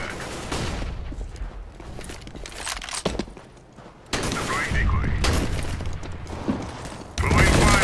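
Gunfire in Counter-Strike: Global Offensive, with close sharp shots and bursts in several clusters over busy in-game ambience, while players talk excitedly throughout.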